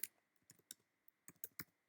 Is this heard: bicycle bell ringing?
no